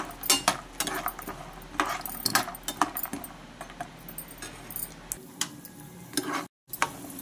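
Cashew nuts frying in a pan for laddu over a low flame, with a soft sizzle under repeated scraping and clinking strokes of a spoon stirring them, fairly quiet and close.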